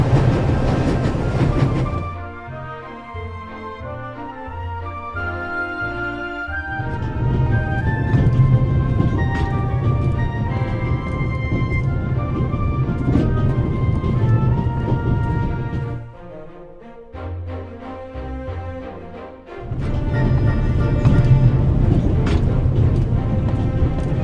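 Train rattling and rumbling in The Raven Remastered, aboard the Orient Express, a steady low heavy rolling drone with rhythmic clatter and brief dips, continuous and close throughout.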